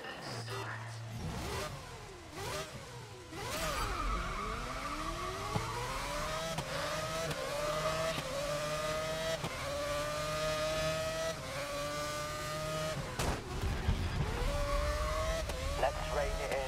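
Open-wheel race cars roar off the grid at a wet race start in Grid Legends, several engines revving and rising in pitch together with tire squeal, loud and close, while a person talks over the din.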